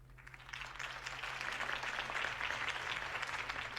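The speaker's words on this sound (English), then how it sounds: "If only Mr. Wayne, my campaign's largest backer, could have heard that applause" A crowd applauds after a campaign speech for Harvey Dent in the Batman Telltale video game, a dense, steady clapping that swells slightly, heard at moderate distance.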